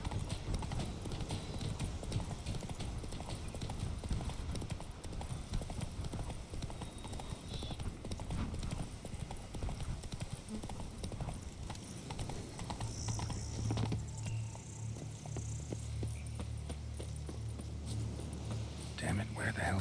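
Horse hooves clip-clop in a fast, continuous rhythm while riding in The Witcher 3, with a brief low rumble and faint game sounds near the end.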